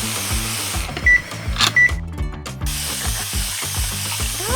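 A LEGO toy foam machine whirs and sprays with a buzzing motor and hiss, interrupted by a few brief louder bursts, close to the listener.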